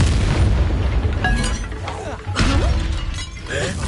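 A Confringo blasting spell explosion in Hogwarts Legacy bursts loud and close with a shattering crack, then rumbles on through dense game noise and a voice.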